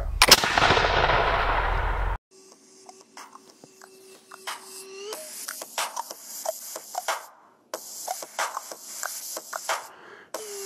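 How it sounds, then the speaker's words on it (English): An 18th-century musket fired outdoors, one loud blast with a long rolling echo, followed by quieter metallic clicks, rattles and handling noises of the flintlock. "holding and firing musket."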